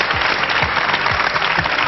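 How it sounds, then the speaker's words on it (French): A television studio audience claps steadily for a contestant, a dense, even wash of many hands at close range with no voices over it. "Merci, bravo, on t'applaudit."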